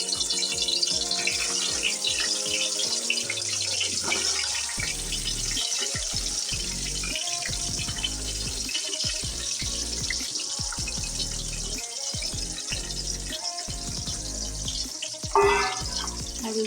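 Fish and potatoes frying in hot oil, a dense, steady hiss and sizzle that runs loud and continuous throughout with occasional clatter.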